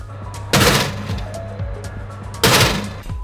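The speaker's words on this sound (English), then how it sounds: "Two pan bangs every 2 minutes." A cookie pan banged against an oven rack twice, each a loud metallic crash with a ringing tail, about two seconds apart over a low background hum.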